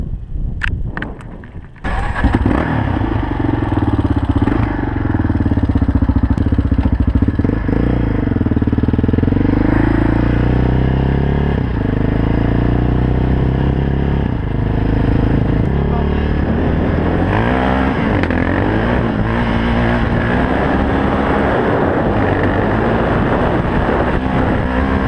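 A Yamaha Raptor 660 quad's single-cylinder engine, just after carburettor tuning, starts up and runs loud and close for over twenty seconds, its throttle rising and falling through several revs with a steady harmonic drone.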